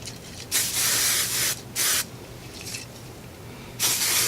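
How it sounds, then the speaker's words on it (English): Hairspray sprayed onto hair while styling beach waves with hair extensions: several short, close aerosol hisses with brief pauses between them, the last burst trailing off at the end. "gonna hairspray"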